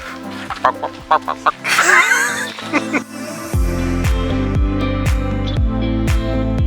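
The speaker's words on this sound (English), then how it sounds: "There's chickens." Chickens cluck in short, uneven bursts nearby in Chiddingstone, a Kent village, with a brief louder squawk partway through and a steady low rumble underneath.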